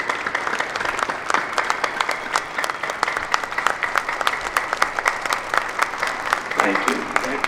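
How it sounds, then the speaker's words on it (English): An audience at a roses-dropping memorial ceremony at the American Airpower Museum breaks into sustained applause, many hands clapping in a steady dense patter with a few sharper claps up close, lasting the whole stretch. "Round of applause, folks."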